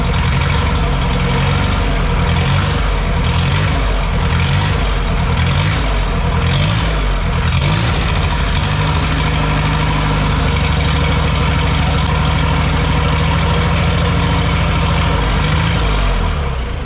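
A diesel engine in an HD dually mini truck idles loudly and steadily up close, its low rumble holding even after a few uneven surges early on.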